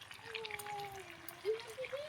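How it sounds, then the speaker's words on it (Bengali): Water is poured from a vessel into a pot of beef and potato curry, a brief, faint trickle whose tone rises as it fills, over quiet kitchen background. "ঝোলের পানি দিয়ে দেবো"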